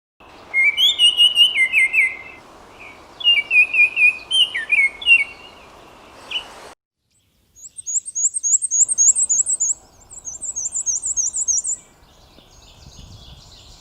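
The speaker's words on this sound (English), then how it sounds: "heard a red start" An American redstart sings bright, high, rapid phrases in repeated bursts, close and clear, with pauses between songs and a faint background hiss, at Rome Point, North Kingstown, Rhode Island.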